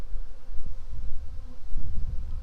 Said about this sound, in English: I love how calm these bees are.